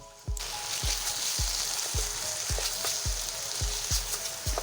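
Tomatoes sautéing in spiced oil with ginger and garlic for a soya chunk and potato curry, a steady close sizzle broken by about nine regular thuds of a spoon striking the pan, with no talk.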